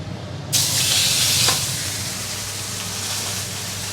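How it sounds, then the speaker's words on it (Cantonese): An M9+ ribeye steak sears in a hot oiled pan over medium-high heat, bursting into a loud sizzle as it lands, then settling into a steady, crackling hiss with no talking. "再煎另外一面。"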